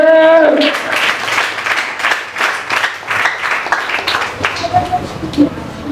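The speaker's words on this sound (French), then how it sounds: "Applaudis l'Esprit de Dieu." A church congregation claps in a loose, uneven rhythm, with individual hand claps standing out over a murmur of voices and a short sung or spoken phrase at the start.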